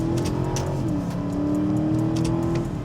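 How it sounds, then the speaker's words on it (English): A 2021 Aston Martin DBX V8 in sport mode pulls hard under acceleration, its engine note climbing in a smooth, loud, continuous rising drone heard close up from inside, with no talking. "when I shove it in sport, the V8 starts to really sing"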